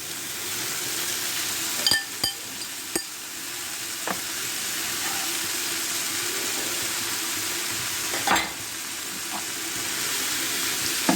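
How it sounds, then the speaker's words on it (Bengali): Chopped cabbage frying in a pan for a jackfruit seed and pabda fish dish, a steady hiss of sizzling close by, broken by a few sharp clinks and taps of stirring. "বাঁধাকপিটাও নেড়েচেড়ে মিশিয়ে দিচ্ছি।"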